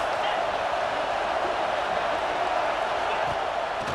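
Simulated stadium crowd noise in the EA Sports College Football 26 video game, a dense, steady roar of many voices that holds without letup at a loud, even level.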